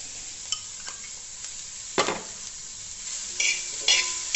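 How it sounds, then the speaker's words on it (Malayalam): Boiled chicken seasoned with salt and ground black pepper tipped into a hot pan and stirred, bursts of sizzling and spatula scrapes over a low steady hiss, with louder clattery stirs toward the end and no speech. "ഇതിലേക്ക് നമ്മൾ ചിക്കൻ ഒരു 3/4 കപ്പുള്ളത് ഉപ്പിട്ട് വേവിച്ച് കുരുമുളക് പൊടിയും ചേർത്ത് വെച്ചിരിക്കുകയാണ്, അതിടുക"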